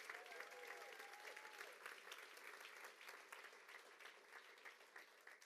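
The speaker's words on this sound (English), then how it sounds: "Come on, clap like it's really the truth." A church congregation clapping hands together in a sustained burst of applause, fairly even and continuous with a faint murmur of voices.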